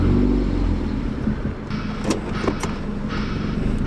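A Volvo with a manual gearbox drives along, its engine note steady and mid-pitched with road rumble underneath, a few brief clicks and knocks from inside the small car, and no talking.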